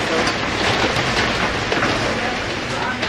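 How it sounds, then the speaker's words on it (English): Heavy hail falling outside, a dense, loud, continuous clatter and hiss of pelting ice with no letup, with voices faintly present beneath it. "it's hailing like crazy right now"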